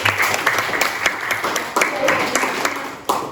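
A class clapping for a student during a lesson on bullying, a short burst of scattered hand claps with uneven accents, fairly close, with a voice briefly audible over it.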